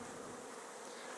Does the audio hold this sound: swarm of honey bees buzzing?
yes